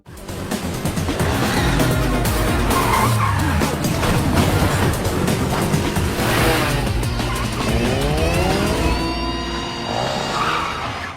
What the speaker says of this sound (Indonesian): Tae-jung pun tak tinggal diam dan langsung tancap gas mengejar mobil sport mereka